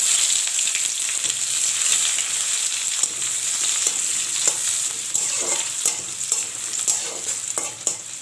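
Chopped onion sizzles steadily in hot oil with spices for ghugni, a bright continuous frying hiss broken by occasional stirring scrapes and clicks, close and loud with no talking.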